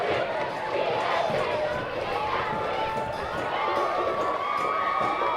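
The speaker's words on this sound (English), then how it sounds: "Crowd very jubilant after that goal." A football crowd at a Philippines Football League match between Dynamic Herbs Cebu FC and One Taguig FC roars steadily after a goal, a dense sustained wash of cheering and shouting with whistles and voices mixed in.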